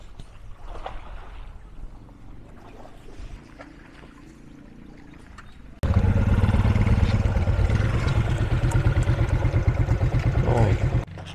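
Engine of a hired motorboat off Bali, Indonesia, first a quieter background, then a loud, steady, close-up motor drone with water noise that starts abruptly halfway through and continues to the end.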